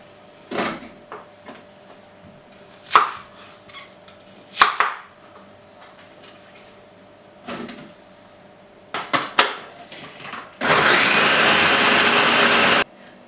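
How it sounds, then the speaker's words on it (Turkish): A few clunks and knocks of a machine being set up, then a food processor chopping vegetables whirs loudly and steadily for a couple of seconds. "Bütün her şeyimi robotta çekeceğim."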